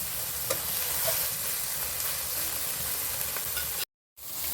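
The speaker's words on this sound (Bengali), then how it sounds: "এবার আমি ভালো করে কষে নেব" Prawns and spices sautéing in a pan give a steady, close frying sizzle with faint stirring scrapes throughout, broken by a brief dropout of silence near the end.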